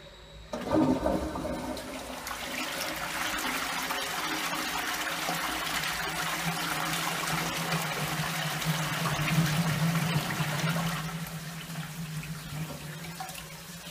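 A Twyfords toilet pan in station toilets flushes with a sudden loud rush of water that churns steadily for about ten seconds, then tapers into a quieter refilling trickle.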